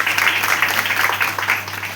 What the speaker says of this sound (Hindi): ताली बजाएं भाई